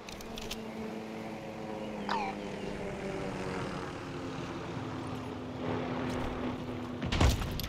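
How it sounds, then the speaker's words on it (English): A UAV aircraft drones overhead in Call of Duty Modern Warfare 3 during a hardcore team deathmatch on Rundown, a steady propeller hum with brief game effects and a louder burst near the end. "Friendly UAV on station."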